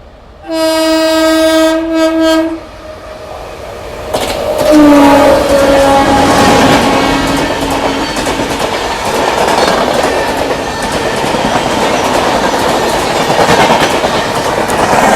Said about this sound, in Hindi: वो गरीब रथ से पहले शायद कोई और ट्रेन भी ओवरटेक कर रही है अपने को